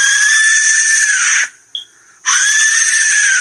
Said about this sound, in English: It has been named the death whistle because the shape resembles that of a human skull